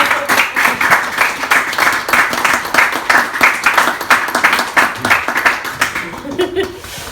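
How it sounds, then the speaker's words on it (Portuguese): Enthusiastic audience applause at a Portuguese poetry reading, a dense steady roll of many hands clapping for several seconds with scattered laughter, fading slightly at the end. "Podemos bater palmas à leitura dos poemas agora?"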